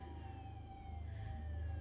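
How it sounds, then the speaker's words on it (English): A police siren in the horror film Terrifier wails with a slowly falling pitch over a low rumbling engine hum, steady and moderately loud throughout. "Police here. Sirens."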